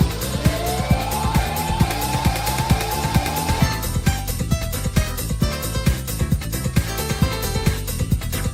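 A siren-like wailing synth tone rides over a driving beat in the Sonic CD music, its pitch sweeping repeatedly while the chords shift beneath. The loud, dense soundtrack plays with no talking.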